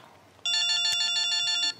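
A mobile phone ringtone starts abruptly after a quiet moment and repeats a bright, pulsing electronic pattern loudly for just over a second before cutting off.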